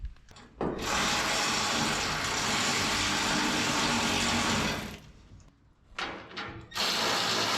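A power drill bores bolt holes through wooden bed floor boards on a 1959 Apache truck. The motor whines loudly and steadily for several seconds, drops away, then returns in two short bursts.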